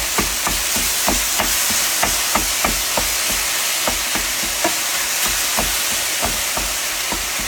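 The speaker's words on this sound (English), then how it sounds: "we're going to fry this up and get her done" Hamburger meat frying in a pan sizzles with a constant loud hiss, and a spatula taps and scrapes against the pan at a steady, regular rhythm, close up with no voices.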